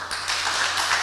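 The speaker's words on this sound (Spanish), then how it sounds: "damos la bienvenida con un aplauso a don Mario Cedrón" An audience claps in welcome for a speaker at an engineering congress session, a dense, continuous patter of many hands filling the short moment with no voices.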